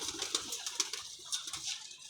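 A flying-breed pigeon cooing softly, faint and somewhat distant, with low repeated throaty coos over a quiet background and no talking.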